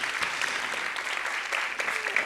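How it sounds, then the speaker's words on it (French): A room full of people clapping steadily at a marketing conference talk, dense and continuous applause throughout, fairly close. "on peut l'applaudir"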